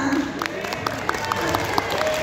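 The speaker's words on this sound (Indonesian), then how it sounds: "tepuk tangan yang meriah" Lively applause from participants at a teachers' workshop coordination meeting: a brisk, continuous spatter of clapping at moderate volume, with a voice speaking over it.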